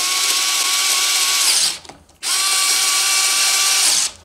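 Bracket screws on a Creality Ender 3 V3 KE/SE 3D printer being tightened with an Allen key: two close, steady whirring bursts with a faint ratcheting tone, separated by a short pause.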